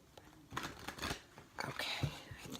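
A deck of tarot cards is shuffled up close, giving quiet papery riffles and soft slaps in short irregular bursts, faint overall, with a few soft spoken words mixed in.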